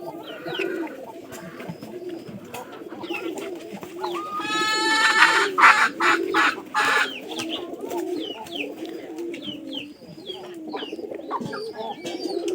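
Pigeons being paired in a loft coo steadily in a low, rolling murmur, and a louder burst of overlapping bird calls rises midway before the cooing settles back to a continuous background.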